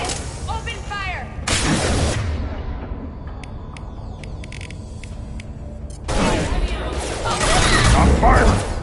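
Bursts of gunfire and explosive booms in the Mass Effect video game, loud heavy volleys that open and close a stretch of quieter mechanical clatter, with voices speaking over parts of it.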